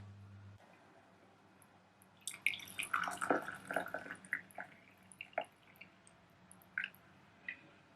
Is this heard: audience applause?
no